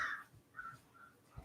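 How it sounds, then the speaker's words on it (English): A crow caws several times, one harsh call at the start and then shorter, fainter caws after it, heard at a distance in a quiet room with no talking. "That was a crow."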